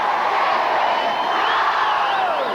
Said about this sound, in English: The crowd aren't happy, mate.